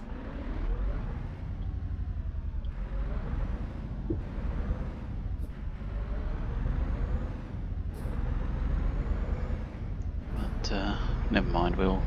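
Air brake hiss as the handbrake is released on a truck in the Euro Truck Simulator 2 game, set against a steady, loud rumbling engine drone that runs throughout.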